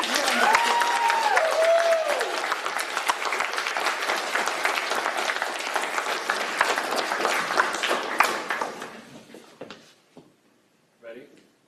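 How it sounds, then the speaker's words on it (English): A round of applause from an audience at a geography department awards ceremony fills the room with sustained clapping, while a voice and a brief whistled or sung tone show through early on. The clapping fades out near the end, leaving a few scattered claps. "All right, round of applause."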